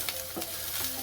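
Onion sautéing in a pan for paneer butter masala, a soft steady sizzle with a few scraping stirs of a spoon, faint and close, no voices.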